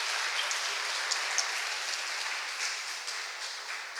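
A church congregation claps together in a soft, even wash of applause that sounds somewhat distant, holding steady for several seconds with faint scattered hand strikes poking through.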